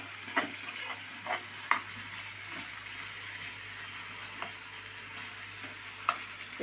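Frying in oil gives a steady, hissing sizzle throughout, broken by a few soft stirring clinks.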